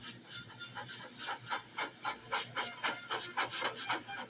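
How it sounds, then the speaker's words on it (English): A steam engine named Gordon puffs and blows steam in a regular rhythmic chuffing, each hissing exhaust beat evenly spaced and quickening slightly, heard fairly close and alone. "Gordon, with much noise and blowing of steam"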